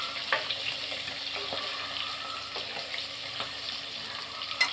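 Fish fries in hot oil for a Chettinad fish fry, giving a steady close sizzle with a few soft pops and light clicks over the crackle.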